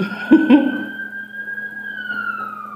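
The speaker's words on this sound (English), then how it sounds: "whenever y'all hear sirens and stuff" A siren wails steadily in the distance, holding one tone that slowly drifts, with a steady hum beneath and a couple of brief knocks early on.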